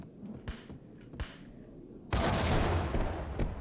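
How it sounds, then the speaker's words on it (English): Video game combat: a couple of sharp gunshot cracks early on, then a sudden loud grenade blast at about two seconds that rolls into sustained explosive rumble and scattered gunfire. "throw your grenade. Throw another grenade."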